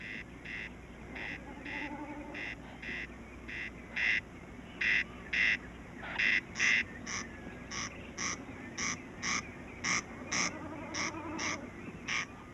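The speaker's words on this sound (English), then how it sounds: "The corncrake, more often heard than seen." A corncrake gives its harsh, rasping double call over and over in a steady rhythm, fairly close, against faint background birdsong.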